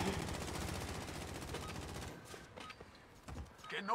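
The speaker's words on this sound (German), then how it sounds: "Oh, sie haben auf mich geschossen" Rapid bursts of gunfire in an online shooter video game, dense and continuous for the first half, then thinning into scattered shots and distant impacts.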